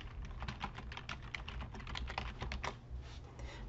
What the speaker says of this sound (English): I can go ahead and start to type my chat.